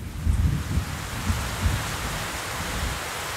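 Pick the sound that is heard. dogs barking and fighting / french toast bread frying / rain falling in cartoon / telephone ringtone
rain falling in cartoon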